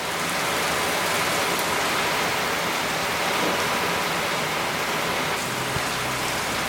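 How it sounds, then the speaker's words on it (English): Heavy Florida downpour, a dense, steady roar of rain hitting surfaces that stays loud and unbroken throughout, with no voices. "it started raining like the world was ending."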